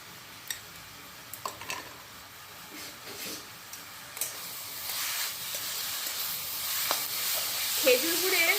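Sweet date-palm jaggery filling being stirred in a pan, soft sizzling and scraping with occasional sharp ticks of the spoon, quiet at first and growing into a steadier hiss.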